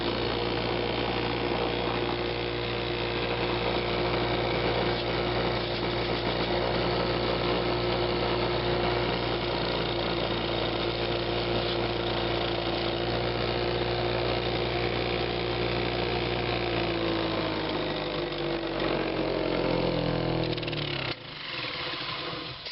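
Steady motorized hum of a buffing wheel loaded with green compound sharpening a knife, a constant drone that runs unbroken for most of the stretch before winding down near the end.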